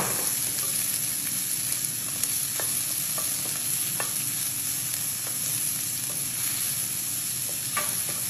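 Onion fries in butter in a pan, giving a continuous close sizzle with occasional sharp pops and utensil clicks, with no talking.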